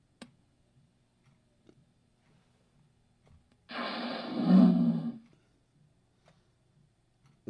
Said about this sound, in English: That's supposed to be a whale.